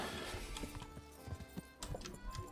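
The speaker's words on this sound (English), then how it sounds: "Ready for our biggest ride yet, horse?" Horse hooves clip-clopping on a ride in Kingdom Come: Deliverance, a quick, steady run of muffled thuds close by over constant ambient noise.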